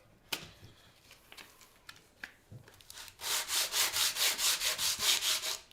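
Guitar frets on a 1982 Gibson SG are sanded with 100 grit sandpaper under light pressure, heard as a steady run of about a dozen rhythmic back-and-forth rubbing strokes after a few quiet taps and handling noises.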